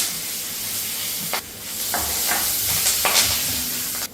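Curry leaves, ginger, cumin, pepper, cashews and asafoetida sizzle in about a tablespoon of ghee: a loud, continuous frying hiss with sharp crackling bursts as ingredients hit the hot fat.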